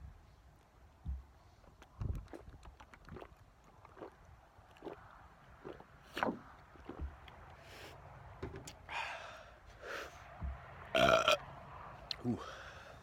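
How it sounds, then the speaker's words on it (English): A man lets out a single burp, close and fairly soft, after several quieter throat sounds and small bumps in a quiet room; a few gasps and breaths follow it. "Not as strong as I would have liked that burp to be"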